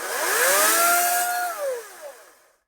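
A Dong Cheng 40V brushless cordless chainsaw with a 16-inch Oregon bar whirs at speed, then its pitch drops quickly as the chain brake stops the chain, leaving silence; close and loud.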